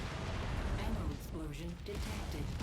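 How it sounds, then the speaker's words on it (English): Ammo explodes in the video game Mechwarrior 5, a dense, continuous rumble of blasts and combat noise lasting a few seconds, with a voice faintly audible underneath. "Ammo explosion?"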